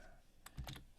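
Several quick keystrokes on a computer keyboard as an email address is entered, a short cluster of close, light clicks in the second half after near silence.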